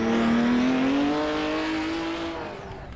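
A Can-Am race car on track, its engine howling at a steady high pitch, then dropping in tone as it eases off, loud and close throughout.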